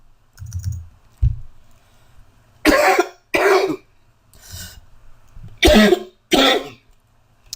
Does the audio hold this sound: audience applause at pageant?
no